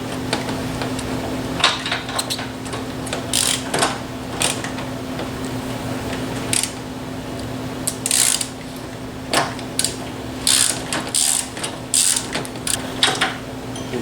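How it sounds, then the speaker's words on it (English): A ratchet on a universal joint works loose the 17mm front motor mount strap bolts on a 2.4L Honda Accord, giving short bursts of clicking and metallic clatter in irregular groups, close up, with a steady hum underneath. "now we're going to remove the front mount strap mounting bolts. They're just 17mm. I recommend using the universal joint."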